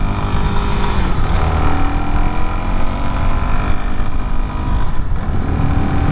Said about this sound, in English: just rolling on the throttle, it does feel way peppier in A mode